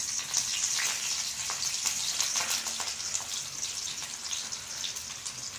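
Dried red chillies and curry leaves frying in hot oil, a continuous bright sizzle with scattered pops, steady and fairly quiet throughout.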